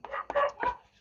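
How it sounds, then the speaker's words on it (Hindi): A dog barks three times in quick succession, fairly close and moderately loud, with short gaps between the barks and nothing else audible. "बहुत ज्यादा कुत्ता भौंक रहा है जिसके कारण आवाज भी आ सकता है"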